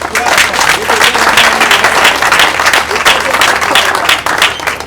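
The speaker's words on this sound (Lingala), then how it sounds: "C'est trop pour acclamer pour le président élu" A crowd applauds loudly and continuously at a political rally for the president-elect in Congo, with voices talking over the clapping.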